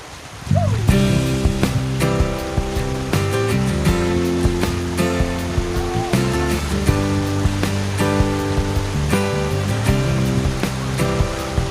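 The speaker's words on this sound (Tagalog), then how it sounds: "Ganda ng dagat oh. Ganda ng alon." Sea waves washing onto a beach at Mangcamagong Beach, Basud, a continuous rushing surf, mixed with music playing throughout and fairly loud.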